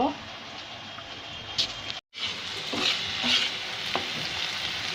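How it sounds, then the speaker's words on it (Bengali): Bitter gourd frying uncovered in a pan, a steady close sizzle with scraping stir strokes, briefly cut off by a short dropout midway before resuming. "আমি সম্পূর্ণ ভাজিটা না ঢেকে রান্না করছি।"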